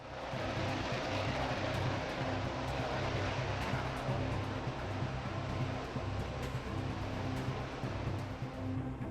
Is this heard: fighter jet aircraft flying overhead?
yes